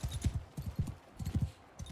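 Horse hooves in Mount & Blade 2 Bannerlord pound out quick clusters of galloping clip-clop, loud and close, with brief gaps between bursts and no voices.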